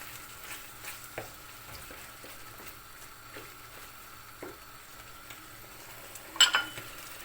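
Lamb meat frying on a saç pan, rendering its fat, gives a quiet, steady sizzle with soft stirring scrapes and a louder clatter near the end.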